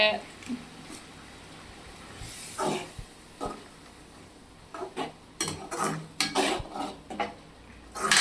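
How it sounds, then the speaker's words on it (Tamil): Egg thokku stirred in a pan gives scattered scraping and clinking of a spoon against metal, with brief hissy bursts and quiet stretches between them. "இப்ப கிண்டுன்னு கிண்டிக்கிட்டே இருக்கணும், அடியே பிடிக்க கூடாது"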